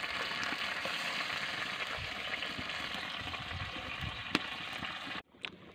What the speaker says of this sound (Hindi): हम इसमें थोड़ा सा पानी और ऐड करेंगे, थोड़ी देर इसे उबलने के लिए छोड़ देंगे।